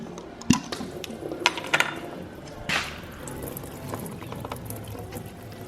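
Coolant drains from the radiator of a Mazda FD RX7 after the plug is pulled: a faint steady trickle with a few sharp metallic clinks and knocks near the start, no voices.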